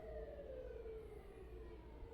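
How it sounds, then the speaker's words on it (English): Faint, distant emergency vehicle sirens wail in a slow descending sweep beneath a low background rumble. "Yeah, I can hear them. Sirens."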